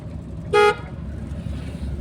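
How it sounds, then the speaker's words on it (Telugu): A single short car horn toot sounds close by over the low rumble of a running vehicle. "ఎదర వెహికల్ ఉంది కదా హార్న్ కొట్టు"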